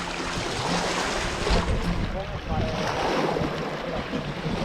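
Waves lapping at the shore of Lake Garda, a steady close wash of water with wind buffeting the microphone, heard alone without talk.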